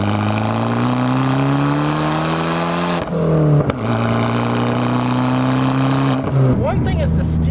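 A 2013 Fiat 500 Abarth with a manual gearbox drives on back roads. Its engine gives a loud, steady drone whose pitch rises and then drops sharply at two gear changes.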